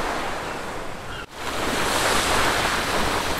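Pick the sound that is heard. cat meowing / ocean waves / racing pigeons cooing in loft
ocean waves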